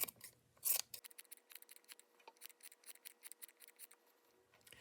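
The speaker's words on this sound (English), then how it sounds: "you can trim this up a little bit if you'd like" Small scissors trim an orange pom-pom beard on a leprechaun gnome craft, giving crisp, quiet snips in a quick irregular rhythm up close, with a brief rustle at the start.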